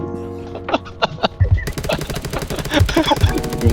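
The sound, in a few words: gunfire in the video game Undawn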